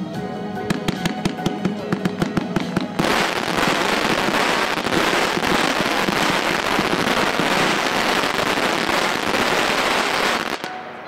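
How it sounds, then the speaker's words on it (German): A 42-shot fan battery of 25 mm fireworks called Switchback fires a rapid string of sharp launch thumps, then breaks into a dense, continuous roar of crackling bursts lasting several seconds before cutting off abruptly. "Weiter mit einer Fächerbatterie, 42 Schuss, Kaliber 25 mm,"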